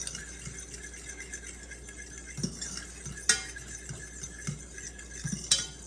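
A fork stirring caramel in a cooking pot, making faint scraping and light metallic clinks at an irregular, quiet pace with a few sharper taps against the pot.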